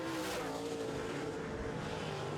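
Modified race cars roar around an oval track in a heat race, a dense continuous engine drone with tire noise, loud and steady throughout with no talk.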